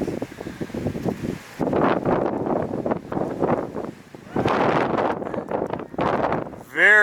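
Gusty wind outdoors at a sled dog kennel under the northern lights buffets the microphone in loud, rough surges that rise, drop briefly and return.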